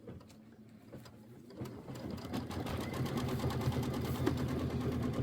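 An embroidery machine stitches a tack-down line for a Kimberbell mini quilt background, a steady, dense mechanical whir of rapid needle strokes that starts softer and then runs louder and continuous.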